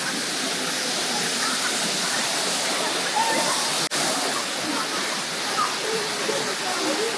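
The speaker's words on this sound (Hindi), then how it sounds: "This is the waterfall." Waterfall at a Bali rice terrace sends a steady, full roar of rushing water that fills the whole stretch, close and loud, broken only by one brief sharp tick midway.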